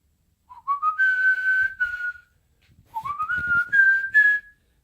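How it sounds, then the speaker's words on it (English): A person whistles the Batman theme song in two rising, sustained phrases, clear and close, each about two seconds long with a short gap between, alone with no talking. "I have to whistle the theme song so I don't get flagged by YouTube"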